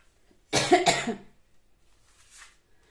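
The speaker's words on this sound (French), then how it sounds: "Alors je tousse un petit peu, je suis malade." Two quick, close coughs in a row, followed by a faint breath and then quiet.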